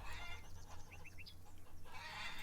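Hens cluck in a Farmer's Dynasty farm game, a few soft clucks and chirps over a steady low ambient hum, fairly faint and with no talk.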